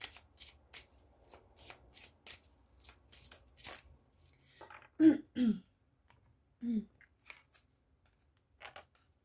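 Tarot cards being shuffled, a quick run of crisp riffling flicks followed by a few softer single card slides and taps, with a couple of throat clears in between, close and quiet.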